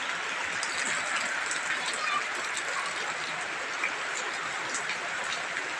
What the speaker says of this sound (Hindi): बहुत तेज़ी से बरसात हो रहा है दोस्तों।